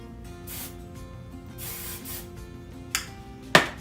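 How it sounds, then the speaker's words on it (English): Two short hissing bursts of hairspray onto the ends of hair, then two more quick sprays with a light click, close and fairly quiet in a still room. "I'm gonna take some hairspray, lightly spray the ends."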